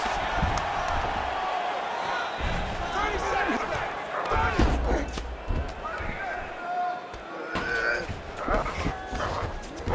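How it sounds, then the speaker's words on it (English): An arena crowd roars and cheers steadily through a stand-up exchange in the fighting game UFC 5, loud and continuous, broken by sharp impact slams of strikes and partly covered by a commentator talking. "Crowd may be drunk, but they're absolutely loving it."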